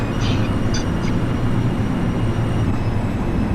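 R142 subway train running in the OpenBVE simulator in snow, a steady low rumble and drone of the moving train with faint high squeals near the start.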